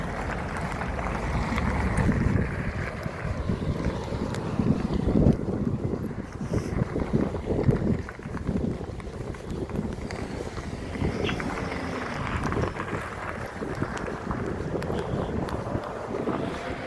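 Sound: strong typhoon-like wind

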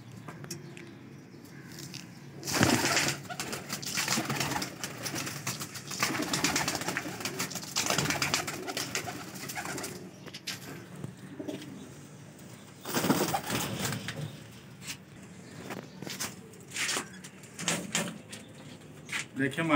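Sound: baby pigeons cooing

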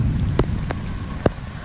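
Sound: heavy rain during tropical storm

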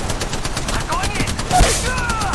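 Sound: gunfire in the video game Apex Legends

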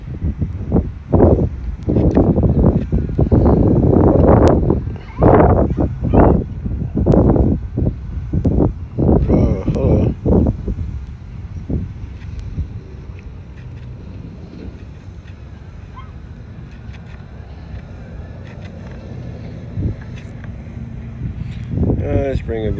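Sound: wind

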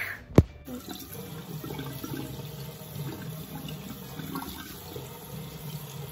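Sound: water running from a tap while washing face

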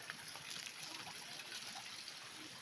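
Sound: spring water flowing from the ground

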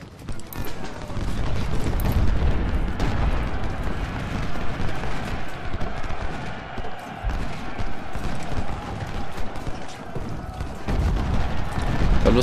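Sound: cannon fire in the video game Ultimate General: Civil War

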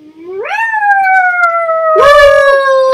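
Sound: puppy howling in a video game

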